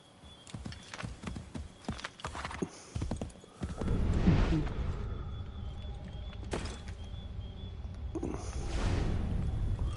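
Horse hooves clip-clop steadily in the Assassin's Creed 3 video game, a brisk rhythmic trot with an occasional whinny, fairly loud and continuous beneath the game's ambient sound.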